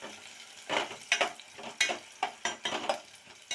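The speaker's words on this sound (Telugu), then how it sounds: "ఆనియన్, ఆనియన్స్ కొంచెం రెడ్ అయ్యే వరకు వేయించుకోవాలండి." Onions frying in a pan for a botti curry, a soft sizzle broken by repeated scraping and clinking strokes of a spoon against the pan at an uneven pace.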